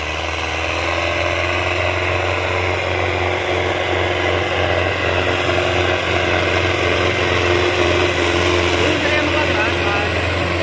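Sonalika 750 tractor engine pulling hard under load with a steady, continuous low drone and even rumble, close by and loud for the whole stretch, no talk over it.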